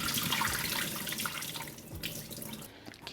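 Tap water runs steadily into a sink while saltfish is washed, with a splashy, bubbling flow and a few small knocks near the end, close and fairly quiet, with no talk.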